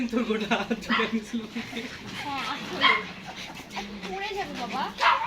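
Farm dogs bark, yip and whimper excitedly around visitors, short sharp calls scattered throughout while people talk over them.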